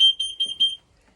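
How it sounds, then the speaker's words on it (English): A propane gas alarm being tested sounds short, loud, high-pitched electronic beeps, about four in quick succession, close by, then silence. "Now it's going to have a series of beeps."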